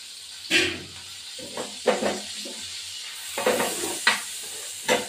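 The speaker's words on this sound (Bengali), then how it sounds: "বেগুনগুলো দিয়ে দেবো ভাজি" Salted, turmeric-coated eggplant pieces fry in oil in a pan, bursts of close sizzling and hissing that swell and fade in irregular waves, with quieter spattering between them.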